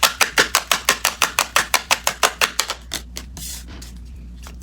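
Tarot cards riffle in a rapid run of crisp, evenly spaced snaps, close and fairly loud, then thin out into a few soft taps and slides as the shuffle ends.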